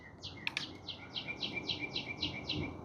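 Outdoor garden bird giving a rapid series of bright, repeated chirps in a regular rhythm, close and clear, with a brief sharp knock near the start.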